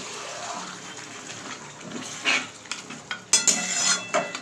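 Mutton being stirred and fried in a new wok (kadai), with bursts of scraping and metallic clinks from the spoon against the pan over a soft sizzle, growing louder and busier toward the end; no talking.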